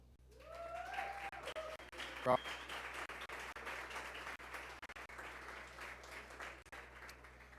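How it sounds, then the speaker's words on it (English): A conference audience applauds guests from Google, steady broadband clapping through the whole stretch with a voice briefly audible at the start; moderately faint and somewhat distant, like a hall recorded from the stage. "A round of applause for them"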